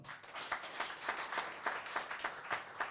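Applause for a party chairman at a PDP political gathering in Edo, a faint, distant ripple of clapping with regular bursts, no voices.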